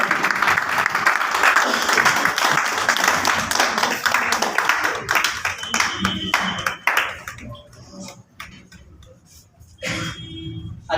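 Audience at a training event applauding loudly, thick continuous clapping that thins into scattered individual claps and fades out, with talk rising near the end.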